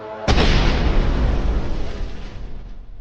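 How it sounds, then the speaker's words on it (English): A kamikaze drone strikes an armored personnel carrier: one sudden loud blast with a sharp onset, then a rumbling roar that slowly decays over a few seconds. "A kamikaze drone attacks the APC."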